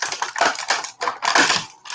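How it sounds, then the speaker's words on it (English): Scissors snipping through plastic toy packaging around a vintage He-Man action figure, a close run of crisp, crunchy cuts and crackles in quick irregular bursts, with no talking. "so I'm going to cut the plastic"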